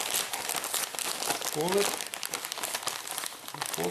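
Wrapping paper crinkles and crumples in repeated bursts as it is folded around a venison burger, close by, with a person talking over it.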